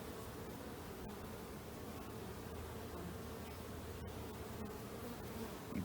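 A dense, continuous buzzing of many honeybees around an open hive during an inspection fills the air, steady and close, with a few faint clicks and no talking.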